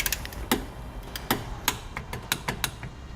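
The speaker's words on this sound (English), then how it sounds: "I'm going to come back with a torque wrench and I'm going to torque all of the hardware down to the specified amount in the" Torque wrench tightening nerf bar hardware on a 2016 Chevrolet Colorado, a series of sharp, close metallic clicks at uneven intervals over a quiet background.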